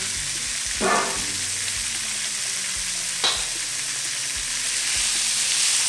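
Marinated roast beef sizzles steadily and close up, a dense, continuous frying hiss with a couple of brief louder crackles and no voices.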